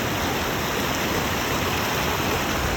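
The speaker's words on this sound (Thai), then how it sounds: "น้ำไหลอยู่บริเวณกลางห้วยหรือกลางน้ำพุ่ง" Water flowing steadily through the middle of a stream at Ban Ta Ngoi, a constant broadband rushing wash with no breaks, close and moderately loud, with no voices.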